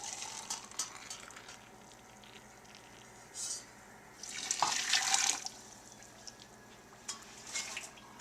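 Water poured into a cooking pot holding sugar, salt and soda for cream candy, a brief splashing rush in the middle against quieter kitchen handling sounds before and after.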